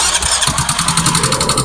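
A Yamaha Mio Soul i 125 scooter, its engine run dry of oil, cranks and starts close by, then settles into a loud, steady, throbbing idle with no talking.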